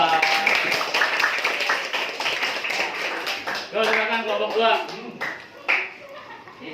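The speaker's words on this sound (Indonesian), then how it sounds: "Kita beri tepuk tangan untuk kelompok 2" An audience in a classroom presentation session claps for the second group, a burst of clapping up front that gives way to a voice speaking over fading claps.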